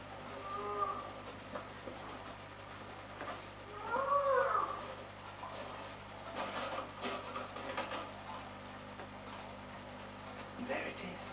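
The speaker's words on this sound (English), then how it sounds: "It's a baby grey seal." A very young grey seal pup, only a few days old, calls inside a sea cave with eerie wavering cries around the middle of the stretch, set against hissing cave ambience and faint background rumble.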